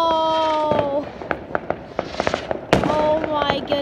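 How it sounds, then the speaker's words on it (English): New Year 2020 fireworks: rapid crackling pops and sharp bangs burst in quick succession, mixed with sustained whistling tones, with one loud blast near the end. "There is so much fireworks."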